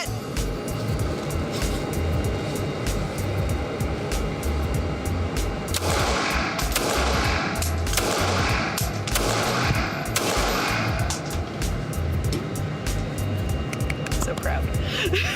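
Handgun shots at a shooting target on a firing range, a short series of sharp loud cracks clustered in the middle of a noisy outdoor background with some talking.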